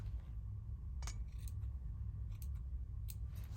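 Small scissors snip embroidery threads in a few quiet, separate cuts, roughly four crisp snips spread over a few seconds against a soft steady background hum.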